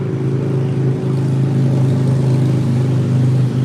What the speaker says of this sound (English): got a loud motorbike going by